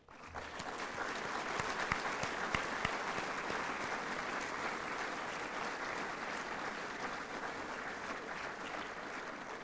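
A graduation audience at the University of Newcastle, Australia, claps steadily, a dense sustained wash of applause holding at an even level throughout with no voices rising above it.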